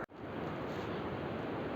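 Swollen river rushing in the Jura in winter, a steady, dense roar of churning water close by with no pauses.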